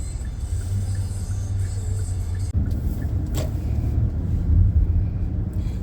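A car driving along an uncongested Virginia road, a steady low engine and tyre rumble heard from inside the cabin, with a brief bump midway and no talk.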